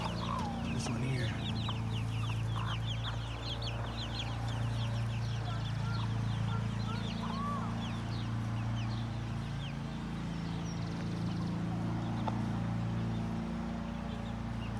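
Young chickens, free-range pullets and cockerels foraging, cluck and peep softly and continuously, with scattered chirps over a steady low outdoor rumble.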